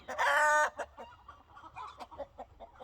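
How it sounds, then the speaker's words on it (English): A loud, sustained hen squawk opens, followed by a run of softer, irregular clucks from several chickens nearby during outdoor perimeter fence installation. "Oh, the chickens have a lot to say today."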